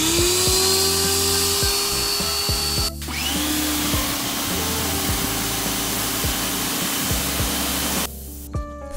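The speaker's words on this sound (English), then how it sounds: "if you have a pressure washer, you can use that for a deep cleaning." Pressure washer spraying faux fur during deep cleaning, a harsh steady hissing spray with a motor whine that shifts pitch midway and cuts off near the end.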